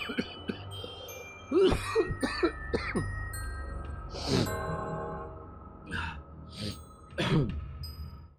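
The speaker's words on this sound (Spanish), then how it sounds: "el hombre empieza a sufrir de un ataque de tos" A man's coughing fit: repeated harsh coughs in clustered bursts, with throat-clearing sounds between them, fairly close and loud over a quiet background.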